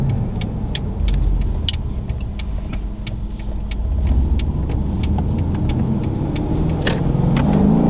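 A 600-horsepower Mercedes E63S AMG wagon engine idles and hums steadily, with a faint turbo whine over the low rumble and a rapid series of light clicking ticks running throughout.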